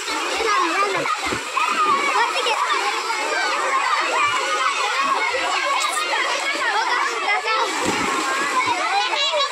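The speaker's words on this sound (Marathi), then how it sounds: "एक असं ड्रॉप काढला जिकडनं वरनं पाणी पडतंय, त्याच्यामध्ये आंघोळ करण्याची एक मजा वेगळीच आहे" Children splashing and shouting while bathing under a waterfall on a village monsoon picnic, a dense, continuous wash of falling water, splashes and excited young voices, loud and close throughout.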